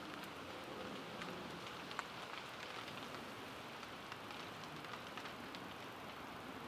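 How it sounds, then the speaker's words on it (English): Steady rain patters continuously on a surface, a soft even hiss with scattered louder drips, no voices. "It's raining down here."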